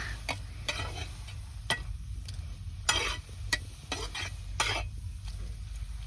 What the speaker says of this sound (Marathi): आता थोडस तेल टाकून घ्यायचं या आपल्या भाजीला तेल टाकलं आईने